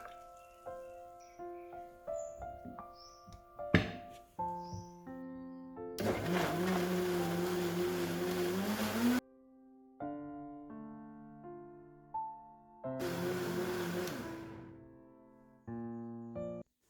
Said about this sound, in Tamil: இப்போ இது எல்லாத்தையும் ஒன்றா பிளெண்டரில் போட்டுட்டு அரைச்சிட வேண்டியதுதான்.